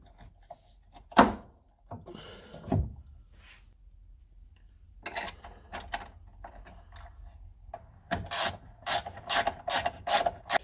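Ratchet wrench tightening drop links during front sway bar installation on a 1993 Subaru Impreza WRX, quiet scattered clicks and clunks followed by a rapid series of sharp ratcheting bursts near the end.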